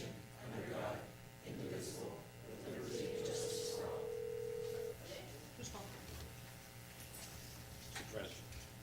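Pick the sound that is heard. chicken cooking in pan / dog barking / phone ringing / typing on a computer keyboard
phone ringing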